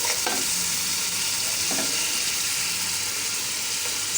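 Onions frying in hot oil give off a loud, dense, continuous sizzle, broken by a few stirring scrapes and clinks of the utensil, with no voices.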